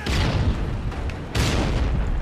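A stun grenade goes off in a Call of Duty search-and-destroy match, producing a dull booming burst, then a second loud blast about halfway through, all at a heavy, steady level.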